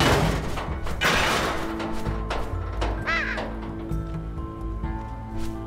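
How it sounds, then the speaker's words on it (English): Crow cawing in the puzzle platformer Unravel, a couple of sharp, close caws over a busy game background of thumps and tonal music, without speech. "And the crow takes it."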